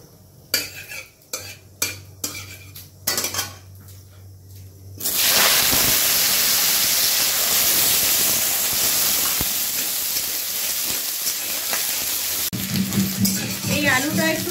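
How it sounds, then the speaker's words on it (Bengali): Spoons clink and scrape in a pan for a few seconds, then potatoes drop into hot oil tempered with black cumin seeds and a loud, steady frying sizzle takes over and lasts to the end. "এবারে কালো জিরের ফোড়ন দিয়ে আমরা আলু দিয়ে দেব।"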